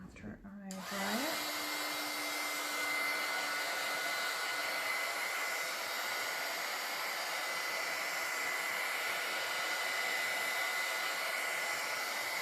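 A hair dryer blows on a freshly washed craft transfer, kicking on with a short rising whir and then holding a loud, steady, continuous roar close by for the rest of the stretch.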